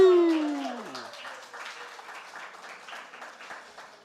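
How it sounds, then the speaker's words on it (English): An audience at the unveiling of a Miss Lou statuette applauds after a falling tone fades out, a steady wash of clapping that slowly thins and softens. "somebody need to put their hands together and give a thunderous applause"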